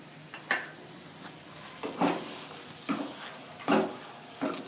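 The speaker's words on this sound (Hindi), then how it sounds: "आलू को भूनते हुए 1 से 2 मिनट हो गया है" Potatoes with spices fry in a pan, giving a soft background sizzle. Four or five sharp scraping stirs of a spoon against the pan rise above it at intervals, with no talk.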